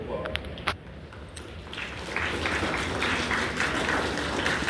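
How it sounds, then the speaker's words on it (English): Applause from a graduation audience for parents and guardians, beginning faintly and swelling into steady, fairly distant clapping from a large crowd after about two seconds. "I need you to turn and give your parents and guardians a round of applause"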